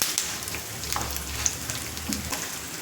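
Ingredients fry in a pan on the stove, a dense, even sizzle with faint crackles and a light stir near the end, heard alone without talk.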